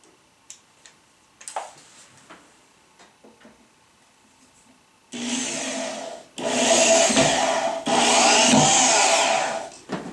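A drill drives a screw at a 45-degree angle through a suspended bookcase board, toe-nailing it to the board above. Faint ticks and handling come first, then three loud, sustained whirring bursts close by.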